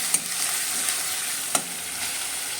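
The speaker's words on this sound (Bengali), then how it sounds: "আদা রসুন ভাজা হয়ে গেছে" Ginger-garlic paste fries in hot oil for a village-style mutton curry, a steady close sizzle with a few sharp spatter pops and faint stirring, no voices.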